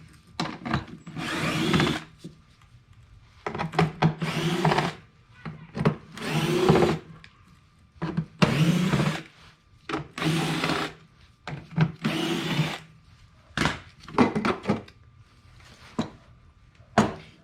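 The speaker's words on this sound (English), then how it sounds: "Looks like a lot of little screws. So I guess we'll get started on them." Small screws being backed out of a Jeep YJ heater case with a power driver, in short repeated bursts of whirring separated by brief pauses, close and fairly loud with no talking.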